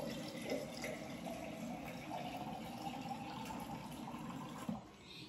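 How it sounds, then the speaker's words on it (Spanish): Water runs steadily from a tap into a pot of black beans with green beans, a continuous hissing pour that stays close and even throughout, with no talking. "Y entonces le voy a poner el agua."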